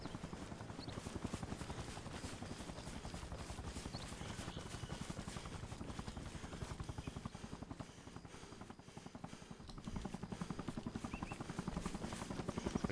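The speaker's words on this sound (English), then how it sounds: "Enemy helo, enemy helo, enemy helo coming through." An enemy helicopter in a military training game passes overhead, its rapid rotor chop pulsing steadily and fairly faint under distant gunfire, with no talking.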